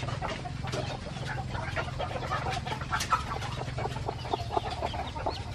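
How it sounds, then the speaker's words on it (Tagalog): Young chicks of native Labuyo fowl on a farm, a busy continuous chorus of high chirps and clucks heard fairly close for several seconds, with no talk over them. "naririnig ko na yung mga huni ng mga sisiw"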